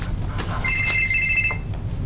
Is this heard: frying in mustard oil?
no